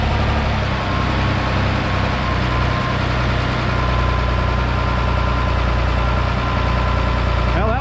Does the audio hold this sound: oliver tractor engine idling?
yes